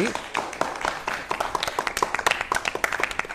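An audience claps in a dense, uneven patter of many hands for a fifth-grade boy reciting the entire Bhagavad Gita, sharp close claps standing out over the crowd.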